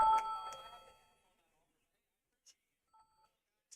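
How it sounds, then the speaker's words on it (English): A bedtime alarm gives short electronic beeps, sparse and faint, coming after a brief stretch of a voice talking at the start and then near-silence between the tones. "That's actually my alarm telling me I need to go to bed"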